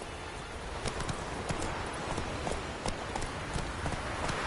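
Galloping horse hooves in The Witcher 3 video game, a rapid steady clip-clop rhythm at moderate volume, continuous with soft rustling behind.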